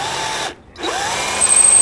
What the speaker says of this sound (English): this is just a half inch drill bit